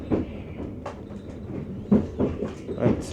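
Passenger train rolling from Kraków toward Prague, heard from inside the carriage as a steady low rumble with scattered knocks and rattles, a few louder jolts late on.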